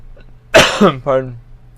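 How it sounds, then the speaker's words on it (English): A sharp, explosive sneeze-like cough bursts out close up, followed by a short voiced throat-clearing grunt. "I apologize for my coughing."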